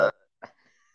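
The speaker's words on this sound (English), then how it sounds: "About to burp." A person burps after chugging a spicy seltzer: a short, sharp eructation, then a second fainter burst a moment later, close and otherwise quiet.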